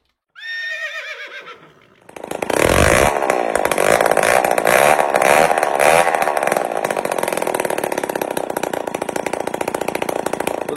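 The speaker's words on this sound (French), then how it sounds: "le petit moteur ronronne, fait même beaucoup de bruit hein, parce qu'il n'a pas son pot" A Peugeot 103 SP moped's small two-stroke engine, running without its exhaust pipe, sputters to life and runs loud and raw, a harsh buzzing rattle without muffling that holds steady after startup.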